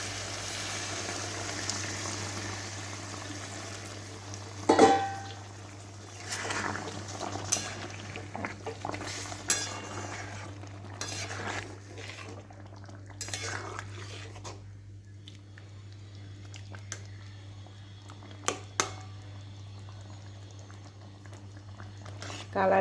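Shrimp posto curry simmers after hot water is added, a low, continuous bubbling with occasional soft clinks and pops, heard under someone talking.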